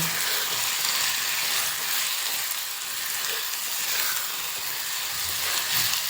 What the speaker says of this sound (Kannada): ಈಗ ಟೊಮೆಟೊ ಹಾಕ್ತಾ ಇದ್ದೀವಿ ಮಿಕ್ಸ್ ಮಾಡಬೇಕು